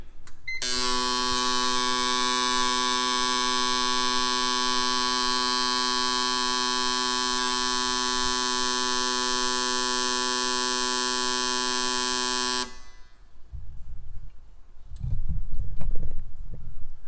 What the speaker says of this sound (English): so we're doing the ultrasonic cleaning right now.